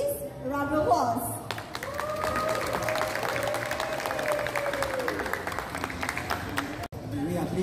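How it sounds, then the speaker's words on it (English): An audience at an Ultraman and anime toy event stage in a shopping mall applauds, with a steady wash of clapping and crowd noise that holds for several seconds before cutting briefly near the end. "A round of applause."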